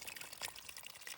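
Water trickles slowly from a tap at a desert site, a faint, continuous, uneven running sound with no one speaking.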